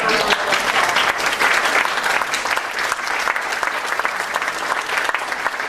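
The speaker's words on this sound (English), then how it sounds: "give them another round of applause" Sustained, dense applause from an audience honoring storytellers at a storytelling event, loud and continuous throughout with a crowd's broad clapping texture.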